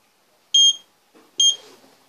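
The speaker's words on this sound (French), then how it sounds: "Alors, un signal sonore." Two short electronic beeps from an AVISS fire alarm control panel, each a bright tonal bleep about a fifth of a second long, clear and close with a quiet gap between them.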